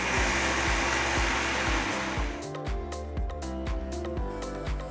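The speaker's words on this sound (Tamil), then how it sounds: "கொஞ்சம் தண்ணி ஊற்றி நல்ல ஸ்மூத்தான மாவா அரைச்சி எடுத்துக்கலாம்." A mixer grinder grinding soaked rice whirs loudly and steadily, its pitch dropping partway through as the batter thickens, with rhythmic thumps from the jar.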